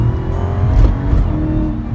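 A Dodge Charger Hellcat accelerates hard on a public road, its engine a loud, close, steady roar that swells for the full two seconds with no voices.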